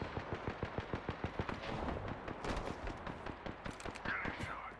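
Rapid, evenly spaced bursts of automatic gunfire from the battle royale game Apex Legends crackle up close and loud, followed by denser, overlapping shots from several weapons.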